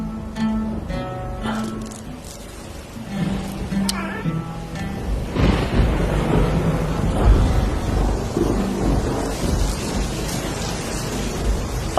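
Steady rain with thunderstorm rumble in an ancient-era drama scene, a broad wash of noise that swells after the opening seconds and holds loud and continuous, with a voice and musical tones over the start.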